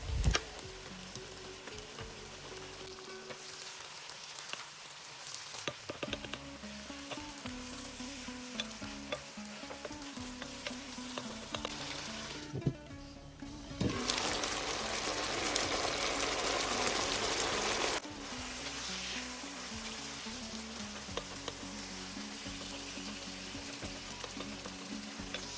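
Pheasant or chicken pieces for chakhokhbili fry under a lid, making a soft, constant sizzle and crackle. The sound grows louder and brighter for a few seconds partway through, then settles back into a low, steady fry.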